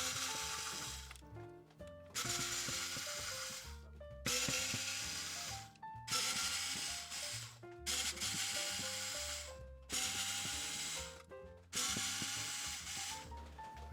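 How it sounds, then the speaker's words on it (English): An electric screwdriver backs out the seven screws holding the circuit board inside a JBL Tuner 2 portable radio, whirring in a run of short bursts of about two seconds each, loud and close with brief gaps between screws. "we'll just use our trusty electric screwdriver as normal"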